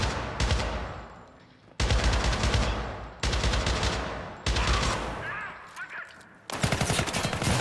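Loud video game gunfire in Syndicate, with heavy automatic bursts arriving in several separate blocks with short gaps between them, up close against a battle with many enemies.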